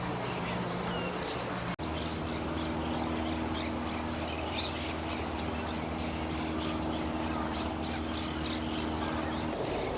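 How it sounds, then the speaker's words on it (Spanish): Common starling at a lagoon giving a varied run of chirps, whistles and squeaky calls, moderately near, over steady low droning background noise and other birds. "el estornino pinto, emitiendo una de sus variadas y singulares vocalizaciones"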